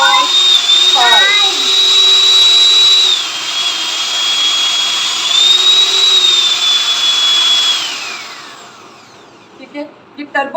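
A Euro Lux electric hand mixer whirs loudly at high speed, a steady close motor whine that dips and rises as the setting changes, then winds down to stop, with a voice talking over it.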